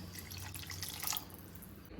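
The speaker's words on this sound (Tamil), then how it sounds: "புளியை கரைச்சி ஊற்றிடுவோம் புளிக்கரைசலை ஊற்றுறேன்" Tamarind water is poured into a simmering South Indian pepper curry (milagu kulambu), giving a soft, close trickle and splash of liquid for a couple of seconds, quiet and without speech.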